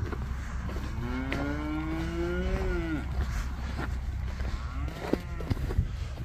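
Cattle moo in a pasture. One long, drawn-out low moo comes first, followed by fainter lowing and scattered knocks and clatter from the surroundings.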